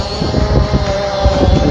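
A Hubsan Zino drone hovers in the wind, its propellers giving a loud, steady whine and whirr, with gusty wind buffeting the microphone.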